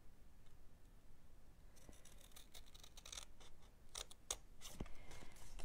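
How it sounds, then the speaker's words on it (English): Scissors snip through paper along scored lines, a quiet start giving way to a series of crisp cuts and rustles, one person briefly speaking at the outset. "So we are going to snip up each one of these lines"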